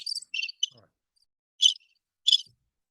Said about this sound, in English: Crickets never shut up.